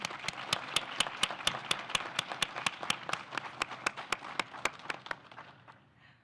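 An audience at a candidate forum applauds steadily, with sharp individual claps standing out over the crowd before it tapers off and fades at the end.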